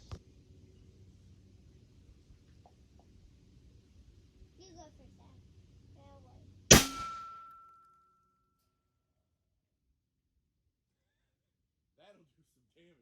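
A single 6.5 Creedmoor rifle shot strikes an RTS Tactical mini shield, a loud sharp crack with a metallic ring that decays over about a second, following low background murmur and faint voices.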